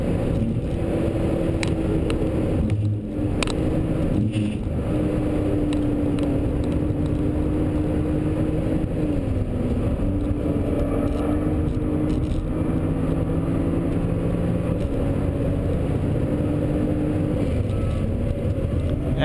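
A 2012 BMW Z4 sDrive35is is driven hard around a race track, its engine a continuous loud drone with pitch rising and falling through corners and shifts for nearly twenty seconds, no talking.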